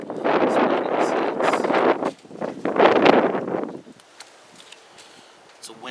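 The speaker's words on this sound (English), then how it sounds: "It's a windy day" Heavy wind buffets the microphone in loud, rumbling gusts, then drops away to a faint hiss of air.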